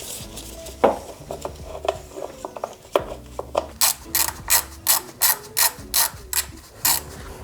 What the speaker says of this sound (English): now I think I can go and remove the timing belt cover, and that's installed with some 10mm bolts